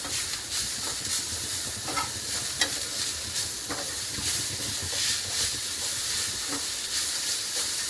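Salted coriander stems frying in a pan over a low flame as their water cooks off, a steady close sizzle with repeated scraping stir strokes throughout.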